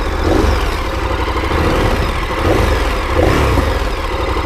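A 2017 KTM 1290 Super Adventure S motorcycle engine fires up and runs with a steady, loud rumble, swelling in a few brief rev surges over its idle.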